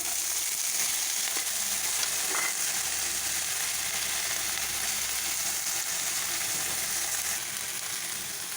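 Finely chopped potatoes fry in a pan for poha, giving a steady, close hiss of sizzling oil that runs unbroken throughout, with faint scraping and stirring sounds underneath.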